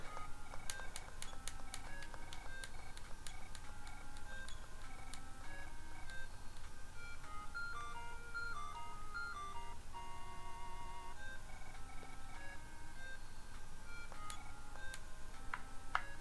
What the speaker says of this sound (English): Grab the telephone.